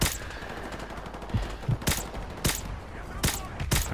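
Gunfire in the Modern Warfare Remastered campaign mission Blackout, with a handful of sharp, separate shots spaced irregularly over a low, constant game background.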